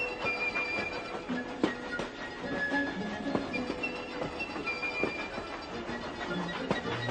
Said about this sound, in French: Un train avance dans la montagne italienne.